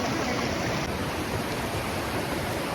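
River water rushes strongly in a continuous broadband roar as a horse crosses, a steady loud torrent close by with no voices.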